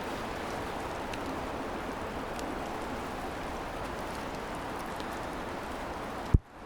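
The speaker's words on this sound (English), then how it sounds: "I'm standing amongst a bunch of trees in the rain" Steady rain falls through a stand of trees, a soft, even wash of drops and leaf patter that ends in a brief sharp knock.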